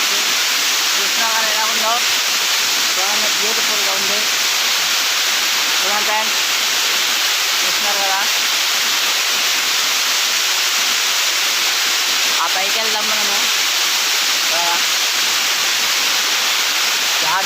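A waterfall roars in a continuous, loud, broadband rush amid beautiful natural scenery, with a voice speaking intermittently over the steady torrent.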